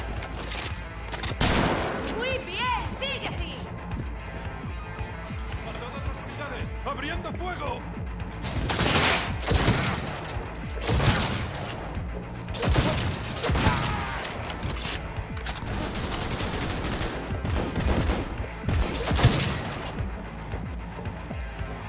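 Bursts of gunfire in the video game Cyberpunk 2077, loud repeated volleys and single shots arriving in clusters over dense game action noise, with someone talking over parts of it.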